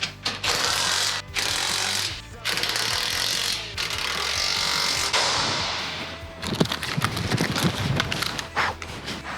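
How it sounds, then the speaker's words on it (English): A 12-volt rattle gun tightening bolts on a custom offroad Ford Ranger bash plate, loud sustained whirring bursts with short pauses, then rapid rattling hammering impacts toward the end, close up. "we use the 12 volt rattle gun. It tightens it just enough without stripping the bolts."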